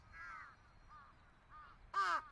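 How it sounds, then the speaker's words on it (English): Crows caw from power lines in the visual novel game Chaos;Head Noah, several separate harsh calls at moderate distance, the last one louder and closer, against a quiet background. "I could hear the sound of birds chirping on the power lines,"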